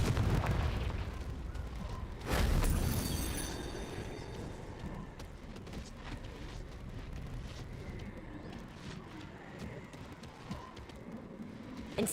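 A loud explosive blast from the Confringo spell in the Hogwarts Legacy game erupts with a deep boom, then decays into rumbling debris and scattered crackles over a busy background.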